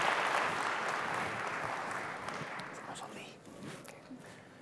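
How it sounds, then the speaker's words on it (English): An audience claps at a convocation ceremony in a hall, with dense, steady applause that gradually thins and fades toward the end. "Everybody give her a round of applause."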